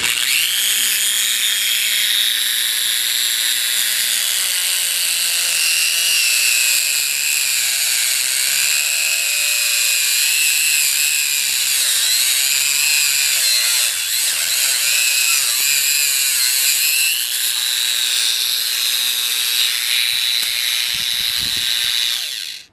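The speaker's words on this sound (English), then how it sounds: "I'm going to run it at a fairly high RPM to cut through this screw with this Dremel cutoff tool." A Dremel 575 right angle attachment spinning a cutoff wheel at high RPM through a screw, a loud continuous high-pitched whine with grinding texture that holds steady for over twenty seconds before stopping abruptly.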